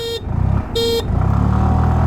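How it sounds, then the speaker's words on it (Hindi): A Hero Destini 125 Xtec scooter gives two short, close, bright honks of its horn, followed by the steady putter of its running engine. "स्टार्ट करेंगे विद 3 हॉर्न्स"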